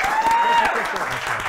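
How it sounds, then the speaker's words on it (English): A comics publishing summit crowd applauds steadily and loudly, with a brief tone and some voices mixed into the clapping. "Let's have a big round of applause for Christos Gage."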